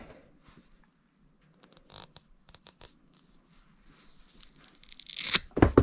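Cutting through an electrical cable during a battery management system wiring install, heard as faint scattered clicks and snips that build into a loud, crunching tearing burst near the end.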